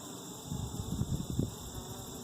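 A steady, close drone of honeybees buzzing at a young hive swells and fades slightly, with a low hum running underneath throughout.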